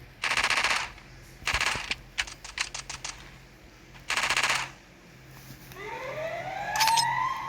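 Bursts of SMG fire in the Free Fire mobile shooter, several rapid automatic strings separated by short pauses and a few single shots, followed by a rising whine of another game effect.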